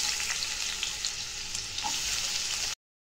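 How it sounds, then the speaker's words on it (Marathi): Onion hits hot oil in a wok and fries with a loud, steady sizzle and light stirring for a few seconds before cutting off abruptly, with no talking. "आता आपण आहे ना कांदा परतायला टाकू"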